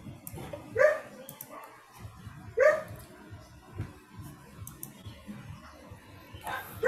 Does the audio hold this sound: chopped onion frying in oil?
no